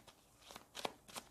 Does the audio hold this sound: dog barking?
no